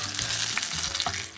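Stuffed capsicum (bharwa shimla mirch) shallow frying in oil over low heat gives a steady, close sizzle, with a couple of soft utensil touches and no voices.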